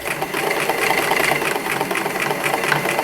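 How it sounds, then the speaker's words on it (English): A sewing machine runs steadily, stitching straight over gathered ruffles on a loose pullover dress, a continuous close whirring hum with no pauses and no voices. "And then sew straight over them like that."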